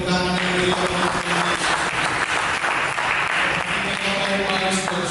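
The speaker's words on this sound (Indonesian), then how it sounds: "Kita berikan tepuk tangan yang beribadah." A church congregation at an Indonesian sermon service claps together, a full, continuous burst of applause with music tones and a little voice mixed underneath.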